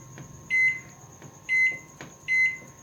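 A microwave oven hums steadily with a cake mug inside while three evenly spaced electronic beeps sound close by, each about a quarter second long, with no talking.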